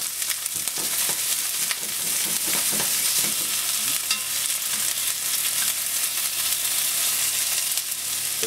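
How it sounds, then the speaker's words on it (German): Oyster mushrooms sizzle and crackle in hot olive oil, with occasional scraping and stirring sounds in the pan, close up and continuous. "Wir anbraten von allen Seiten."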